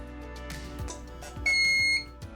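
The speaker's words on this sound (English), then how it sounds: "Press the test button to allow the cycler to go through a test phase and ensure all alarms are working." An Amia home dialysis cycler running its test phase sounds a steady electronic alarm tone lasting about half a second, close and clear above a soft mechanical hum with faint clicks.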